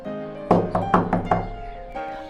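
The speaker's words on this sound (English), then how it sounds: "The first piggy was taking a nap when he heard the wolf knock on his door." Wolf knocking on the door of a straw house: four quick hollow knocks in a tight rhythm followed by a softer fifth, close and fairly loud, with no talk over them.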